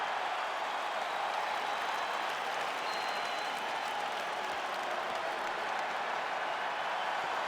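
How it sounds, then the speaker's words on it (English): A steady, dense roar of a cheering and applauding crowd fills an arena in the UFC 5 fighting video game, loud and unbroken throughout. "The crowd on its feet as this next round gets underway."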